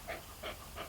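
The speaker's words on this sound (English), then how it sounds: "You can probably hear my dog panting in the background because it's really hot today." A dog panting in hot weather: three quick, soft breathy pants in steady rhythm, close but faint, with no talking.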